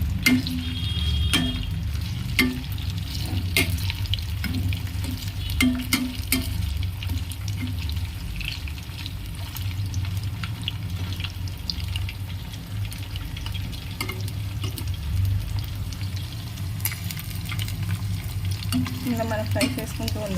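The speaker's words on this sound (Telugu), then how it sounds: "ఇలా మనం ఫ్రై చేసుకుంటూ ఉండాలి, కలుపుకుంటూ." Chicken pieces fry over a low flame and are stirred in a pan, a continuous sizzle and scraping with frequent utensil clicks, close and steady for the whole stretch, with faint background sounds.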